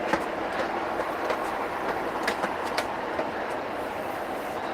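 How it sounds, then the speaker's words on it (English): A train rumbles steadily through the city at a distance, a continuous broad roar with faint periodic clacks of wheels on track, no talking heard. "You hear the train rumbling on through the city?"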